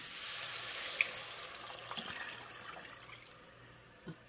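Liquid pours steadily into a Le Creuset 3.5 sauteuse soup pot while making Zuppa Toscana turkey soup: a soft, continuous splashing stream with a few small clinks and drips, fairly quiet, no talk.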